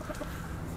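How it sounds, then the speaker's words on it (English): Rooster clucking in a backyard among the hens, a soft, low, steady burble of fowl sounds kept at a moderate distance with no talking over it. "That's our rooster there, Russell Crowe."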